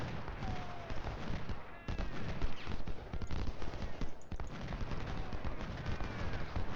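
Skirmisher units firing muskets in Ultimate General: Civil War, a continuous busy rattle of scattered shots and battle din, fairly loud and constant with small lulls.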